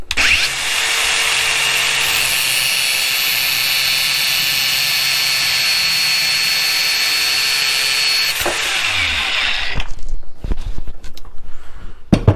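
A power cutting tool slices the handle off a screwdriver with a loud, sustained high-pitched whine for about eight seconds, then it winds down and gives way to clattering and knocks nearby.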